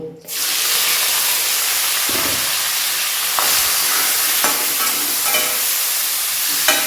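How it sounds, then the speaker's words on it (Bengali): Shrimp coated in salt and turmeric fry in hot oil for a Bengali mocha chingri dish, giving a loud, steady sizzle close by with a few faint clinks and stirring scrapes, and no talk. "চিংড়ি মাছটা ধুয়ে আমি নুন হলুদ মাখিয়ে রেখেছি এবার এটাকে ভেজে নেব"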